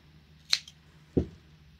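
Scissors snip crochet yarn from a beanie in two short, crisp cuts about half a second apart, close and quiet against a faint background hum.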